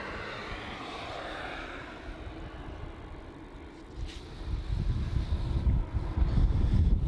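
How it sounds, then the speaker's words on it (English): A Jetstar Airbus A321neo arriving at Melbourne Airport rumbles from a distance, its engine roar swelling low and broad toward the end amid light wind noise. "looks like we have one of those new Jetstar A321 Neos coming in from Cairns as JQ941"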